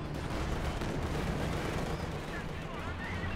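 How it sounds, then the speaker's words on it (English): Panzerwerfer rocket artillery firing in the Company of Heroes 2 strategy game, a continuous roaring barrage of launches and blasts with no break, loud and dense, under a commentator's voice. "Panzerwerfer can fire again here"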